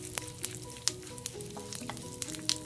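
Mustard seeds and a pinch of hing sizzle in hot oil for kara chutney tempering, a steady close fry punctuated by sharp, irregular pops as the seeds crackle, with no talking.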